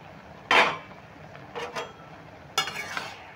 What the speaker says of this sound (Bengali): 2 মিনিটের মধ্যে আমি কিন্তু ঢাকাটা খুলে নিচ্ছি।